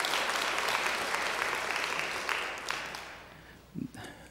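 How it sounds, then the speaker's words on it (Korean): A church congregation claps steadily in welcome during a worship service, loud at first and then fading out, with a brief murmur near the end. "여러분도 환영의 박수 부탁드리겠습니다"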